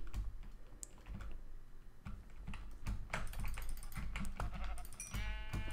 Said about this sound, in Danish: Der er sådan 10 får herovre og så nogle grise.